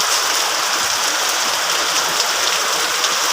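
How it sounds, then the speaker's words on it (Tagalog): Heavy typhoon rain from Typhoon Carina pours down in a dense, unbroken hiss, loud and steady throughout with no talk. "ang lakas ng ulan"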